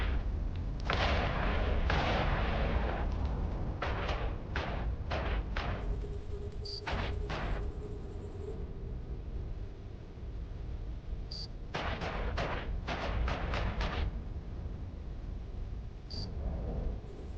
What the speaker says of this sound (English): think we better reload after these guns finish their extremely long cycle